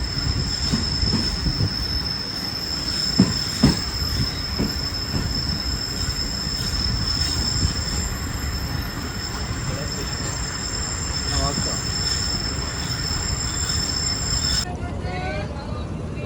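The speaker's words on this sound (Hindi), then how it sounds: "GU20 लग रहा है और ये मुझे फरीद एक्सप्रेस लग रही है।" The Farid Express passenger train runs between Karachi and Lahoure past a parlour car at the Nawabshah stop, a loud continuous rumble of railcars with squealing wheels and steady rail clatter. Voices speak faintly under the noise.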